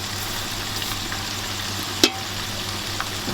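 Tomatoes, garlic-ginger paste and chili fry in a pan with a steady, low sizzle while being stirred, and a single sharp clack of the utensil lands midway.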